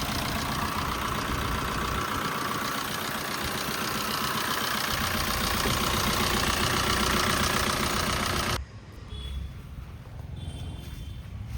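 A 2017-18 Maruti Suzuki S-Cross Smart Hybrid diesel engine idles close by with a steady, dense rumble for about eight and a half seconds, then the sound drops away abruptly to a quieter background.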